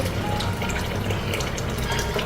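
Water is poured into a pot of masoor dal pulao masala, a brief, close, continuous gushing splash.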